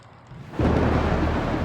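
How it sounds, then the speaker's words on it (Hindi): A thunderstorm with heavy rain and hail surges in abruptly after a quiet start, becoming a loud, dense, continuous roar of downpour that stays strong to the end. "बारिश, बिजली का कड़कना और ओले भी गिरे।"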